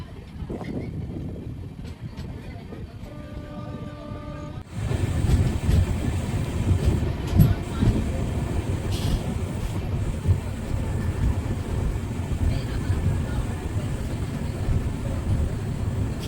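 Palnadu Express, the 12747 Guntur-Vikarabad train, running round a curve near Sattenapalli, gives a steady rumble of wheels and carriages that grows louder and fuller after the first few seconds and then continues unbroken.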